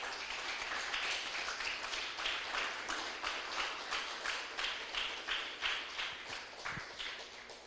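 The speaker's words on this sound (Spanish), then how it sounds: "Denle un fuerte aplauso al Señor, aleluya." Applause from a church congregation in a Spanish-language service, steady broadband clapping sustained throughout, moderately distant and even, with faint rhythmic pulses as if some hands clap in time.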